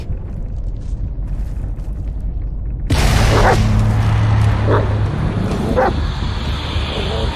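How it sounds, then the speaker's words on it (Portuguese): In the 2019 video game Blair Witch, a dog barks a few times after a sudden jump in dark, rumbling game ambience, with sharp, separate barks at mid distance. "É cachorro."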